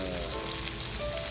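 Yakitori chicken skin sautéing skin-side down in a hot pan, giving a steady, close, dense sizzle with crackling spatter throughout and no talking.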